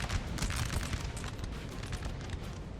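Cannon fire in Napoleon: Total War during an Ottoman siege, a dense, rolling mass of distant booms and crackling reports blending into a steady roar.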